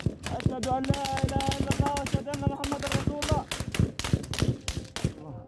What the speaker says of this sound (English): but another hail of gunfire erupts.